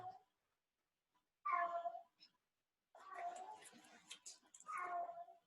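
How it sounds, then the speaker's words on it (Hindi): A cat meows several times, close and fairly loud, in drawn-out calls separated by short pauses. "बिल्ली की आवाज अगर आ रही है आपको"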